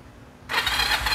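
A 2021 motorcycle with about 2,000 km on it starts abruptly after a quiet moment, then settles into a steady, close, even running rumble.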